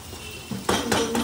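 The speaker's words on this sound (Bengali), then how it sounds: "মশলার জলটা দিয়ে আমি একটু মশলাটা কষাচ্ছি" A spoon scrapes and clinks against a pan while a spice paste thinned with spice water is fried and stirred for chicken kosha, making a few quick metallic scrapes over a faint sizzle in a very short moment.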